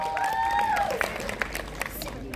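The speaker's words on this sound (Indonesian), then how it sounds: "Tepuk tangan sekali lagi teman-teman." Applause and cheering break out among the audience at a press conference for the film Temurun, scattered claps beneath a speaking voice and a rising, falling tonal sound.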